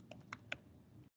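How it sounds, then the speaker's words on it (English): Keystrokes on a computer keyboard while typing a free label in LabVIEW, a handful of quick, distinct clicks close up over a quiet background, ending abruptly. "So you can go ahead and type in LabVIEW"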